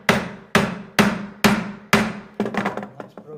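A mallet drives a chisel through a wooden mortise with five sharp, evenly spaced knocks, followed by a quicker flurry of lighter taps, close and clear with no talk.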